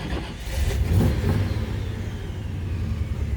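A 1955 Chevy drag car engine fires and revs hard, its loud, rough low rumble holding steady and close throughout.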